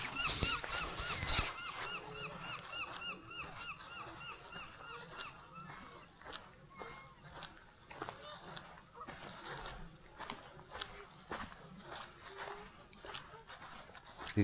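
Geese honk beside a reservoir with very low water. A few faint, distant calls sound near the start, then fade into quiet outdoor background with scattered soft noises.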